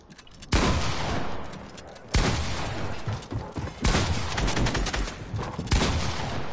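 Gunfire in the Fortnite battle royale game comes in loud, dense bursts of rapid shots, four separate volleys with short pauses between them.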